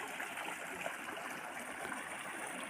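A natural spring feeds a village pool with warm water, flowing in a steady, dense rush and gurgle close by, with no talk over it.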